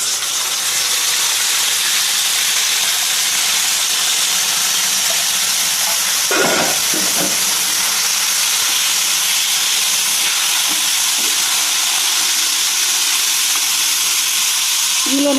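Gongura pickle simmering on a low flame after a hing tempering, a steady, loud hiss and gentle bubbling throughout with a brief louder burst near the middle, no talk.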